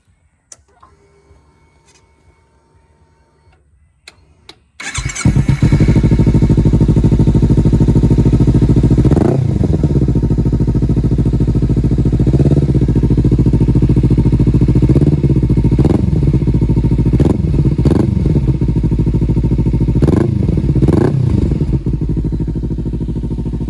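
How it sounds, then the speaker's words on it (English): A 2017 Kawasaki Ninja 300 with a Leo Vinci aftermarket exhaust starts after a quiet moment and settles into a loud, close idle, with several sharp throttle revs rising and falling before it eases back. "my Leo Vinci exhaust, which sounds amazing, and I'm going to go ahead and start it up for you just so you can hear it"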